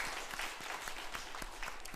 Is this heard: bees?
no